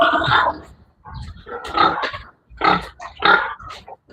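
A sow grunts and squeals in several loud, close bursts with short pauses between them.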